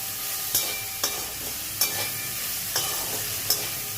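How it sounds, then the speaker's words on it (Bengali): Sliced okra fries in a pan with a steady, quiet sizzle, broken by about five sharp scrapes of a spatula stirring it at uneven intervals, with no voices. "একটু ভাজা ভাজা হোক, তারপর একটু জল দেবো"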